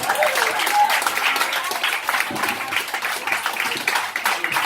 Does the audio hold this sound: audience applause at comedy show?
yes